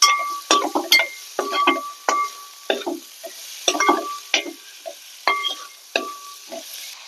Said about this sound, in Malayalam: ഇനി നമുക്ക് നന്നായിട്ട് ഇളക്കി കൊടുക്കാം.